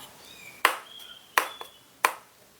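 Small metal parts of a Samyang 24mm T1.5 cine lens being screwed back in during a cleaning and regreasing, giving three sharp, bright clicks spaced apart in a quiet room.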